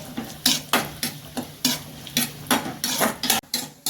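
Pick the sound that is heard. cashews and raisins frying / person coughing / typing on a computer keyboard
cashews and raisins frying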